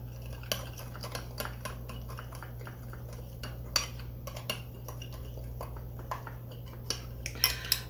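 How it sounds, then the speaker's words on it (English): A spoon stirs a chocolate oatmeal cake mixture in a bowl, giving light, irregular clinks and scrapes against the dish over a steady low hum. "Now I'm going to stir this up and let that dissolve"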